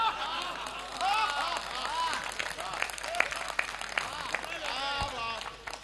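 Applause from an audience at an Indian Hindi poetry recital, a steady wash of clapping lasting several seconds with a voice speaking over it throughout.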